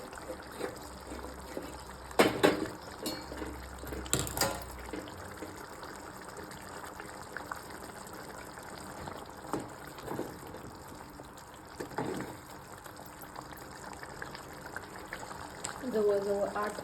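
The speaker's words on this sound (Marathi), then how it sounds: "ते पण ओतून घेते आता." Hot water is poured into a pot of paneer curry being cooked for eight to ten people, heard as a couple of short, soft gushes against a quiet kitchen background.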